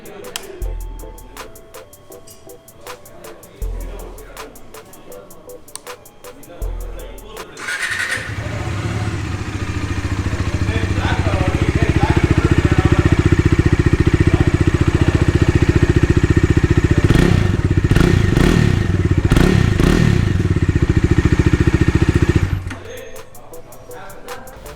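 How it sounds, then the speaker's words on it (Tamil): A Bajaj Dominar 250 motorcycle with a double-barrel exhaust starts up and runs steadily close by, its loud idle swelling with a few blips of revving before it cuts off near the end. "வாங்க இப்போ எக்ஸாஸ்ட்டோட சவுண்டு எப்படி இருக்குன்னு பார்க்கலாம்."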